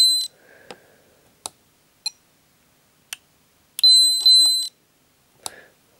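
Sharp electronic beeps and clicks from a multimeter continuity test on a failing capacitor, including two longer high-pitched tones, sound in irregular bursts from close by, with silence between.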